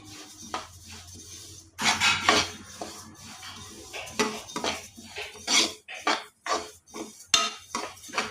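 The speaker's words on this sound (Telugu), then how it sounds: "ఇలా కలుపుకుంటూ వేపుకోవాలి ఈ మూడు నాలుగు నిమిషాలు వేపుకోవాలి" A metal spoon scrapes and clatters in a pan with an irregular rhythm while ingredients, including sesame seeds, are stirred and dry-roasted for a laddu. The sound is close and moderately loud, with short pauses between strokes.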